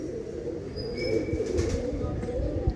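Female racing pigeon cooing in a loft, the low murmuring coos faint and close amid soft wing flutters, rustling and some background voices.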